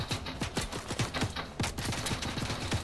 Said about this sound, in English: Yo, shots fired, man. Shots fired.